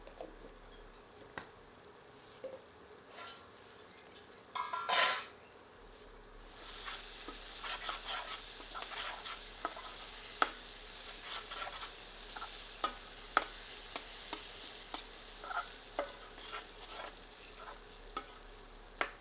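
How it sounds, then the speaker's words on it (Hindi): A ladle stirring potatoes and flat lima beans in a pan for a sabzi: a faint, quiet scrape and clatter at first, then a continuous soft sizzle with scattered clinks of the ladle, no talking. "एक बार अच्छी तरह कड़छी चलाने के उपरांत इसमें आलू सम्मिलित करते हैं"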